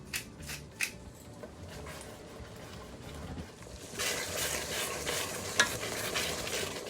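Thick gravy in a Ninja Foodi pot being stirred, a few soft scrapes early on, then a steady close sizzling bubble with light spoon clinks.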